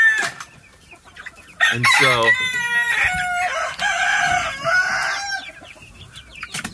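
Wheaten Ameraucana chickens cluck steadily while a rooster crows close by and loud, with a brief word spoken near the start.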